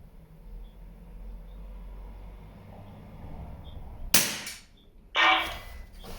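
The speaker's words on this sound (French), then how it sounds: "Et le son des impacts. Le son qui rassure." Rifle rounds from a CZ 452 strike a target 50 m away, giving two short, sharp impact cracks about a second apart after several seconds of quiet outdoor background.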